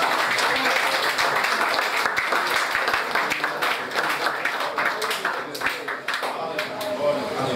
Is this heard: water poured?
no